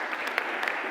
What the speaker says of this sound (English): please, a round of applause for United Kingdom